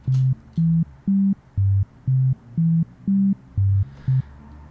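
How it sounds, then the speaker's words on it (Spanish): A synthesizer on its default preset plays a steady sequence of short, evenly spaced electronic notes shifting between a few pitches, with no other sound around them. "vamos a escuchar cómo suena este sintetizador en sus valores por defecto"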